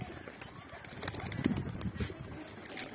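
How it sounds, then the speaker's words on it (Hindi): Domestic pigeons released from their coop take off together in a soft, irregular flurry of flapping wings, with a few faint coos mixed in. "कबूतर मेरे खुल चुके हैं, उड़ रहे हैं।"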